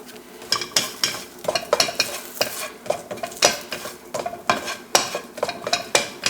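Curry leaves and coconut sizzle in a hot pan for a Kerala-style vegetable thoran, with a spoon scraping and stirring in quick repeated strokes, close and clear.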